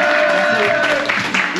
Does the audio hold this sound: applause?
yes